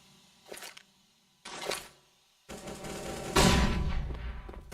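Gunfire in a competitive CS:GO match on the Nuke map, a wallbang kill shot through a wall: two short sharp bursts with pauses, then a louder sustained volley of shots, no talk.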